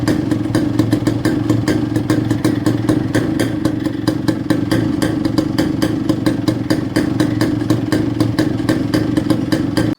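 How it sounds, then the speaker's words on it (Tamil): Yamaha RX135 motorcycle idling with a steady, rapid two-stroke beat and a metallic clatter, loud and close, running continuously without a break. "வண்டியோட பீட் சவுண்ட் காட்டுறேன் பாருங்க."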